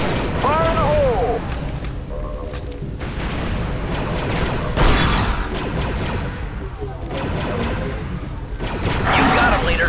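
Grenade blast in the Star Wars Republic Commando video game, a deep booming explosion amid ongoing blaster fire, droid mechanisms and battle noise, with voices calling out over the din.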